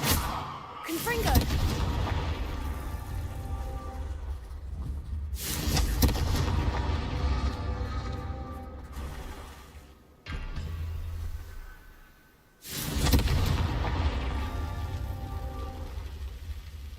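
Repeated Confringo blasting spell explosions in Hogwarts Legacy, three heavy broadband blasts a few seconds apart, each followed by a long crackling, rain-like roar, loud and close.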